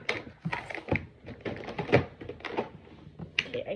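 A stiff drawer is yanked open with effort, producing a series of close, uneven wooden thumps, scrapes and rattles that come in jerky bursts.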